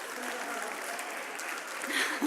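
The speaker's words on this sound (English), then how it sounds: "Give yourself a clap for growing your fingers." Audience clapping in a brief burst, a dense steady patter of many hands that swells slightly at the end.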